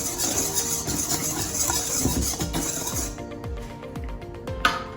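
A utensil stirs flour, sugar and yeast in a bowl, producing repeated clinking, scraping knocks in a loose rhythm, close by, over faint background noise and without speech.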